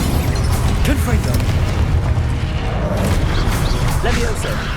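Spell-blast explosions from the Confringo blasting curse in the Hogwarts Legacy video game, booming and bursting repeatedly over a dense, loud bed of combat effects and spoken spell incantations.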